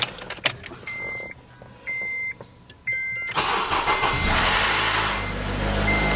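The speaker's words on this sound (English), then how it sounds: "Let's see if I can actually start the car now with the alarm, without the alarm going off." A cheap used car with a slight timing chain issue is started: a few clicks and three steady electronic beeps, then the engine cranks and catches, settling into a loud, continuous idle close by.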